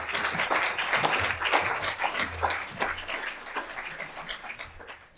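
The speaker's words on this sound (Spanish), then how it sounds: "Un aplauso." A lecture audience applauds with dense, steady clapping that holds for several seconds and then thins out toward the end.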